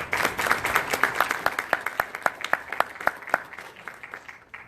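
Audience applause at a live event, many hands clapping in a brisk, uneven patter that swells and then gradually thins out, fairly close.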